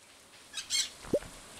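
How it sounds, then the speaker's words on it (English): A rainbird calls in Stardew Valley: a quick bright chirp followed by a short lower squawk, brief and fairly close over a quiet background. "There's a bird."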